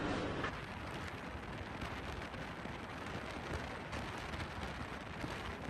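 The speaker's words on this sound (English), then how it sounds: "It's raining today" Rain falling on a day in Fiji, a steady, dense hiss of drops spread evenly across the whole stretch with no voices.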